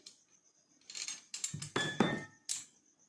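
Small metal nuts clink and rattle as they are fitted one by one onto a handmade craft piece, a quiet close run of light metallic taps and brief jingles with short pauses between.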